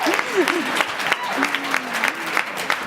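Gala audience at Albany Law School clapping in a steady, dense wash of applause that runs throughout, with some voices and tonal sounds rising over it.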